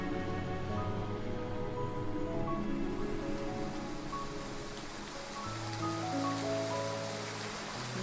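Rain falls in a fantasy nether-realm setting as a soft, steady patter and hiss beneath sustained, gentle musical tones, with no speech.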